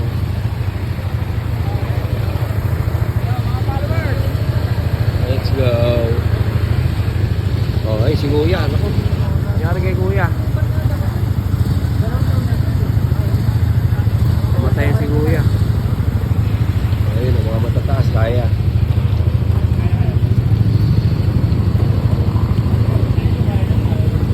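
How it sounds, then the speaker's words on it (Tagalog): Motorcycles ridden through flood water on a stranded, flooded road in the Philippines, a steady engine drone running the whole time with splashing surges, while people talk over it. "may mga sumubok na mga nakamotor"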